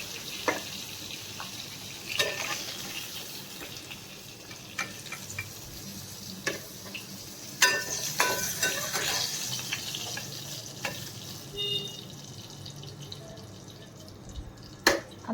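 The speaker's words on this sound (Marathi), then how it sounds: "आता आपल्या मिरच्या झाल्या आहे. थोड्याशा फ्राय केल्या आहे मी त्या." Green chillies frying in a pan, a soft continuous sizzle dotted with scattered pops and crackles, close and fairly quiet, with no one talking.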